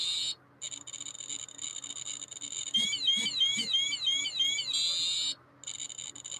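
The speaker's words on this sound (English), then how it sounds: "ignore the alarm. I'll turn it off in a minute." A radiation detector's alarm sounds during a gamma spectrum measurement, a high electronic tone repeating in pulses then warbling rapidly, broken by brief pauses, with faint background talk.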